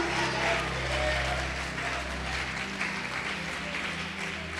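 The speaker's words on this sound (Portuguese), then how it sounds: "Você pode aplaudir e glorificar o Senhor." A church congregation applauds during a sermon, a thick, continuous patter of clapping over a low, sustained musical drone, steady throughout without voices on top.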